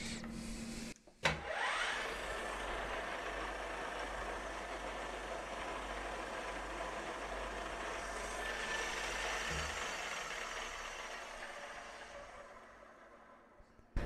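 Vertical milling machine spindle running small end mills at about 2000 RPM while machining a BNC-style connector part, a steady loud whirring drone with machine hum, broken by a brief clunk near the start, tapering off toward the end.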